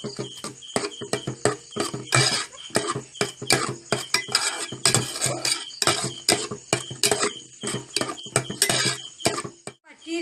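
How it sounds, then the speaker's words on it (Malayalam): Pumpkin frying in ghee while being stirred in a pan, with repeated scraping and clinking of a utensil against metal in an irregular rhythm, close and fairly loud, without speech. "വെള്ളം തോരുന്നത് വരെ നമ്മൾ നെയ്യിലിട്ട് വറുക്കേണ്ടതാണിത്."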